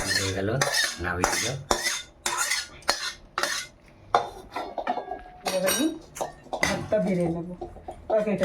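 Cutlery clinks and scrapes against dishes as food is served at home, with a string of sharp close taps and stirring sounds under a person talking throughout.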